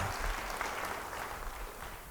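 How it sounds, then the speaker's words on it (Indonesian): A church congregation claps during a sermon. The clapping is faint and washed out, a muffled, roomy patter of hands that holds steady for a couple of seconds. "Yang mau beri tepuk tangan bagi dia."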